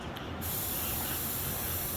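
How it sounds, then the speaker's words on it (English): Aerosol spray can releasing a steady, loud, continuous hiss of gas that runs the whole time without pause, heard close up during repair work on a Ford truck fitted with a Cummins engine. "I'm spraying you with gas."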